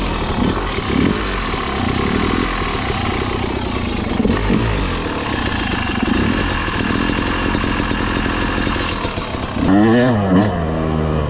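A Yamaha YZ 250 two-stroke dirt bike rides slowly along a trail during engine break-in, its engine buzzing and crackling nearby, then revving sharply up and down toward the end.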